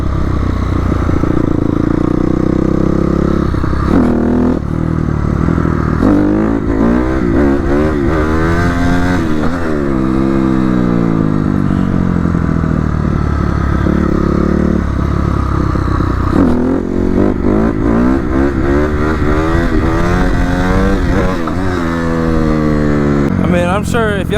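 A dirt bike engine revs hard during wheelies, close and loud, with repeated throttle blips rising and falling in pitch over a constant rough idle, while someone talks over it.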